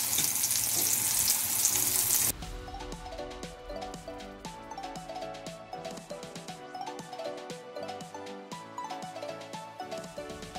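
Chana daal kababs, made without egg, shallow frying in oil in a pan: a steady close sizzle and crackle with scattered pops and light utensil clinks, no talking.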